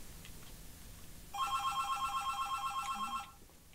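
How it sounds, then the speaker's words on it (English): A telephone rings upstairs, one continuous trilling electronic ring lasting about two seconds, fairly clear above quiet room noise, with no talking. "Oh, somebody's ringing the phone upstairs."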